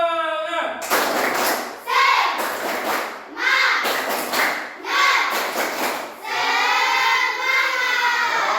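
A class of schoolchildren clapping a rhythmic spirit clap in a classroom, several bursts of loud group claps in a patterned beat, mixed with their chanted voices and a teacher's voice.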